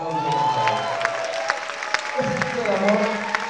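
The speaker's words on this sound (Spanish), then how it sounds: "Un aplauso." Applause for a film director at a documentary screening in a cinema, scattered claps rising over lingering talk and crowd murmur, with a voice speaking at points.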